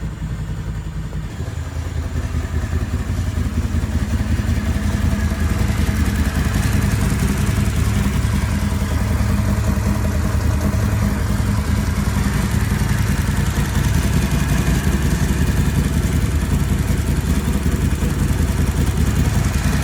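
A Renegade engine runs steadily after starting, a loud close rumble with a rough, pulsing idle and mechanical clatter that keeps going for the rest of the nearly twenty seconds.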